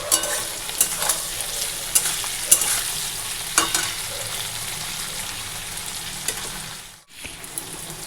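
Oil frying hard in a wok after dal tempering, a dense close crackling sizzle with a few sharper pops, briefly cutting out near the end before resuming.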